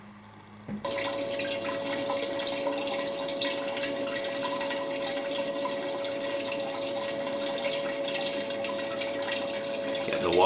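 Water flows steadily through a Blue Bowl gold-panning concentrator used to separate black sand, a constant close hiss and trickle with a faint pump hum, running unbroken for several seconds before a brief splash at the end.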